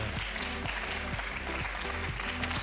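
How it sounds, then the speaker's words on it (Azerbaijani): A studio audience at a televised singing battle applauds the winner with steady clapping throughout, under what sounds like faint music. "Qalib bizi dəstəkləyək, hörmətli dostlar, alqışlarınızla."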